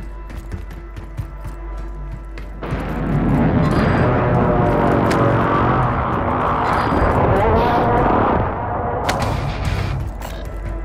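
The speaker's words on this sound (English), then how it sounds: "I'm getting shot at." Gunfire and explosive rumble in Call of Duty, a heavy sustained barrage of shots and booms rising loud and near for several seconds, with people talking over it.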